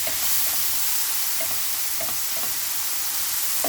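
Minced meat frying over medium heat in a pan, a steady loud sizzle throughout with occasional scraping taps of a spoon stirring it, close up and with no talk.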